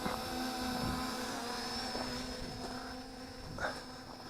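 An Eachine EX1 brushless GPS camera drone hovers with a steady, close whine of its motors and propellers, holding a constant pitch with slight surges throughout.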